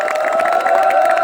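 An audience at a games and sports kickoff event claps and cheers together, a loud, dense burst of pulsing applause and raised voices close by.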